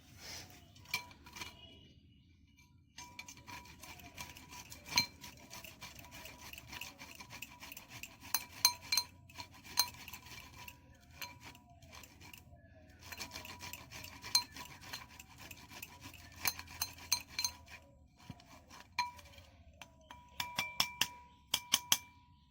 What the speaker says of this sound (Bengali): আর এই ঘষাটা দিয়ে ঘষে নেব প্রথমে আদা পিসটাকে, 1 পিস আদা